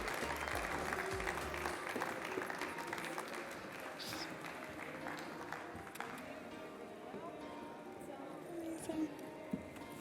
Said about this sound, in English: So if everyone can give a round of applause to our students once again,